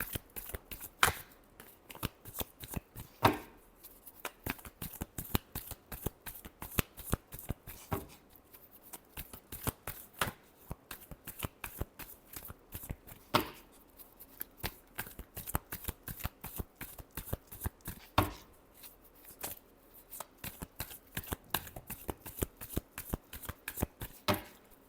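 Tarot cards shuffled steadily for the whole stretch, a dense, close run of crisp flicks and riffles with occasional louder snaps, and nobody speaking.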